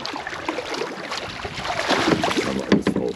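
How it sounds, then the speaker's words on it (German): Kayak paddling on a river in southern New Zealand, with watery paddle strokes and splashes under light wind noise on the microphone, close and building toward the end. "fahren wir heute mit dem Kajak"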